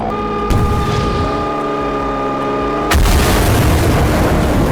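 A rocket launcher from the LFS base mod fires in Garry's Mod, one sharp blast followed by a steady whine, then a second heavy boom that leaves a dense roar filling the rest of the moment.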